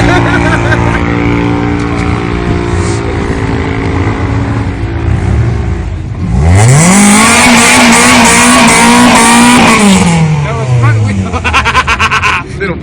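Small drag race cars rev hard at the Willowbank Winternats, engines idling loudly, then a rising wail as one climbs and holds high revs before dropping back, with people talking under the noise.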